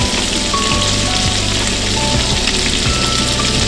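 Salmon fries in a hot pan while being basted with butter, giving a steady, dense crackling sizzle like heavy rain that holds at an even loudness throughout, with no voices.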